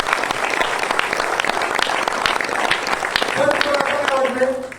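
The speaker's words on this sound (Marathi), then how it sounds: "सरांसाठी एकदा जोरदार टाळ्या वाजवा" A crowd applauds energetically, sustained clapping filling the room, with a voice briefly heard near the end.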